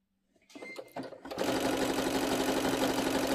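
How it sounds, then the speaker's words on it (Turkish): Sewing machine stitching along the edge of a fabric pouch: a few soft handling taps first, then a steady, loud, continuous mechanical whir with fast needle clatter running close to the end. "Diğer kenarı da aynı şekilde dikiyorum ve ovarlağını gideceğim."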